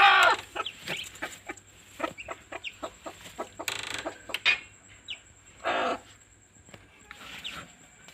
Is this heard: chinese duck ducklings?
yes